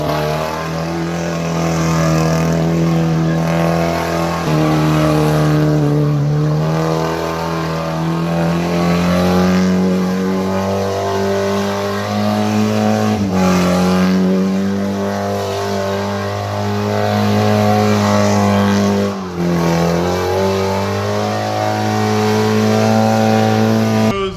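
A 1995 Nissan 240SX S14 with a tubed chassis and LS engine swap revs hard and loud, its engine note rising and falling in steady sustained pulls with brief dips between, close by and continuous throughout.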